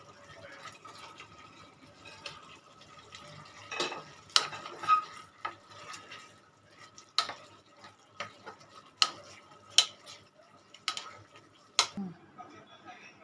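Soybean balls are tossed and stirred into manchurian sauce in a pan, giving irregular scraping clinks and soft wet stirring knocks at close range, without speech.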